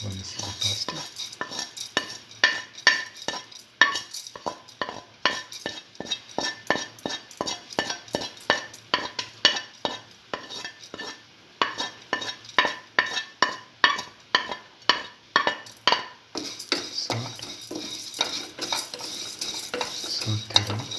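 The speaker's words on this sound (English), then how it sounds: "Now put in the vermicelli pasta." A metal spoon scrapes and clinks steadily against a soup pot as vermicelli pasta goes in with split pigeon peas, a quick repeating rhythm of close taps with a faint simmer behind.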